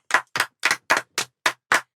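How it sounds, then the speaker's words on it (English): Seven sharp, evenly spaced claps ring out in a classroom, each distinct and close, with brief silence between them and no talk. "Claps."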